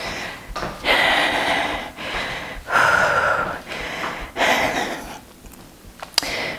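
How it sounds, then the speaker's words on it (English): Heavy, loud breaths in repeated bursts from someone working out with a kettlebell, each rasping exhale rising and fading over a few seconds, with no talking. "A lot of heavy breathing going on"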